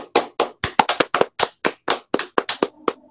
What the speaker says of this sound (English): we need to give him a standing O for this one. Lance Stroll, standing O, round of applause.